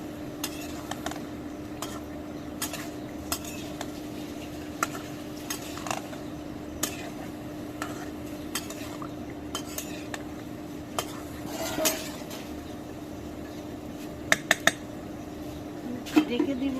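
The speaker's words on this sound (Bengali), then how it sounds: "নাড়া দিব" Food being stirred in a cooking pot, with soft periodic scrapes and light metal clinks over a steady low hum, a couple of sharper knocks near the end.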